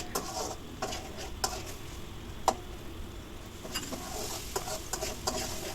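A spatula stirs a spice masala with chopped tomato frying in a pan for broiler chicken bhuna. A faint, even sizzle sits under a series of scattered scraping clicks and a sharper tap midway.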